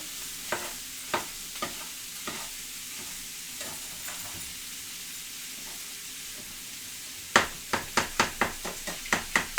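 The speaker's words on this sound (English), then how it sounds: "While it's frying up here." Sausage fries in a pan for a dip, with a steady sizzle underneath and a spatula scraping and knocking against the pan in regular strokes that speed up into a quick series near the end.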